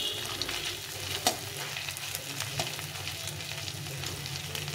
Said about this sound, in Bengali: আদাটাকে একটু ভেজে নিতে হবে লাল লাল করে।